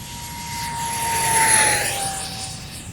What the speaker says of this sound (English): the A-10 is maneuverable enough and comfortable enough at a wide range of speeds